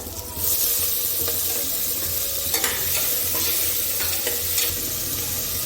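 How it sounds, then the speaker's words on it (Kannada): Chopped tomatoes added to a hot sizzling tempering for sambar, a loud, close, steady frying hiss with repeated scraping stirs of a spoon against the pan, no talking. "ಒಗ್ಗರಣೆ ಅದಕ್ಕೆ ಟೊಮೆಟೊ ಹಾಕ್ತಾ ಇದ್ದೀನಿ ಇವಾಗ"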